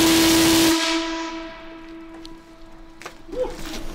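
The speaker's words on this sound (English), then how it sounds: "what we have here is the air whistle" An air whistle in a 116-year-old copper mine at the Britannia Mine Museum blasts a loud, steady tone that cuts off after about a second, leaving a hissing echo and faint knocks afterward.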